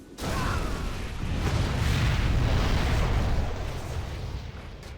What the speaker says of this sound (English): Particle cannon ready for SiZe again